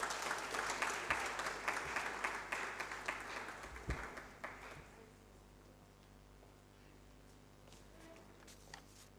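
Audience applause at a land surveying seminar, brisk clapping for about four seconds that fades away, leaving a quieter room with a few scattered sounds.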